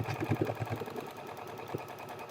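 Sewing machine stitching a flannel patchwork pillow cover seam, a steady, close mechanical whirr with a rapid needle rhythm, running alone with no speech.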